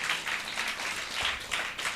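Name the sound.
congregation applauding the worship team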